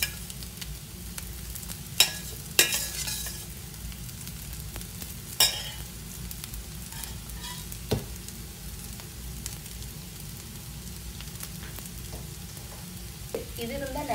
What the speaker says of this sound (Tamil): இந்த புட்டை கொஞ்சம் கொஞ்சமாக மிக்ஸ் பண்ண